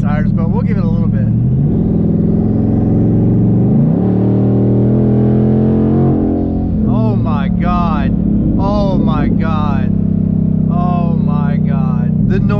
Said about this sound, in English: No Catback on the car. All you hear is turbo noise.